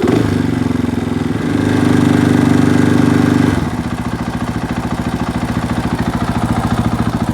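A Yamaha YZ450F dirt bike engine runs at high idle after an adjustment, a loud steady close-up putter that drops to a slightly lower, rhythmic idle partway through, with no talk.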